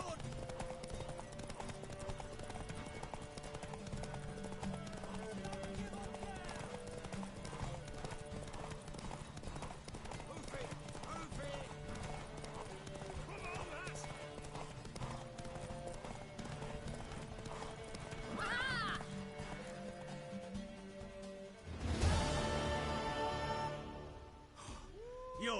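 Horse galloping in The Witcher video game, a steady run of clip-clop hoofbeats under continuous music and dialogue, with a louder burst near the end.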